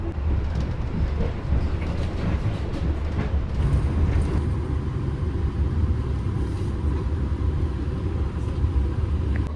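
Gajayana passenger train pulling into Kepanjen station, a steady low rumble of rolling wagons with a broad, even hum that holds at a constant level throughout, no voices.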